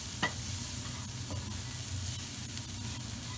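Ground spices and mild curry powder being stirred through in a hot pan, a soft continuous sizzle with faint scraping strokes, quiet and steady, with no talking.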